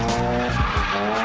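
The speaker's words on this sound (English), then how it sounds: "I was able to pull off this one good drift around the oval track at Evergreen Speedway" Car drifting around an oval track at Evergreen Speedway, with a loud, sustained engine roar and tire squeal through the whole short burst, with rising engine pitch sweeps as it slides.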